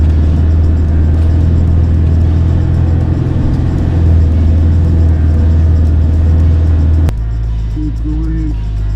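A Land Rover Defender revs hard during off-road driving, its loud, steady engine roar and heavy low rumble filling the cabin before the note drops suddenly near the end.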